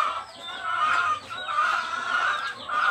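Mother hens clucking and murmuring steadily nearby at feeding time, a soft continuous chorus of chicken calls with occasional higher squawks.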